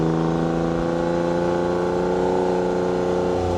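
A 1997 Suzuki Cappuccino's small engine drones steadily, its pitch holding high and rising slightly, loud and close under hard acceleration.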